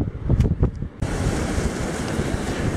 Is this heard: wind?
yes